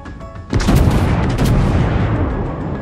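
Naval ship guns firing in the World of Warships video game, a sudden loud booming salvo followed by a long rumbling roar with further blasts layered in.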